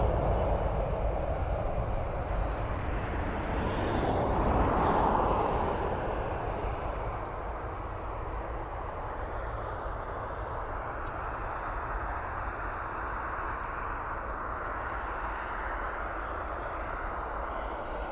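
An airliner takes off from an airport runway with a steady, broad jet roar that swells briefly near the start, then holds as a constant rumble from a distance.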